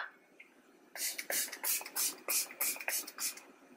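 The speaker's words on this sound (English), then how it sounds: "I'm just going to spray some more setting spray" Close, hissing spritzes of makeup setting spray, about eight quick bursts in an uneven rhythm after a brief quiet start.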